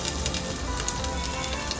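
Ginger dropped into hot oil for a pressure-cooker pulav sizzles steadily up close, with sharp crackling pops sprinkled throughout and no talking.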